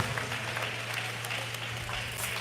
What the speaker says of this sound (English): let's give another round of applause for these two teams after a fantastic game in the championship